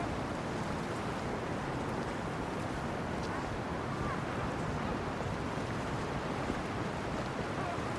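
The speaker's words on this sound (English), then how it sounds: "The waves, you know." Sea waves wash continuously onto a sandy beach below cliffs, a steady broadband roar with wind buffeting the microphone throughout, no clear individual breakers standing out.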